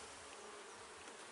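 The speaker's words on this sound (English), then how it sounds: "Bees that are starting to have interest in me." Honeybees buzz in a steady, dense drone around a beekeeper working an open, healthy hive, the swarm sound close and continuous with no talking.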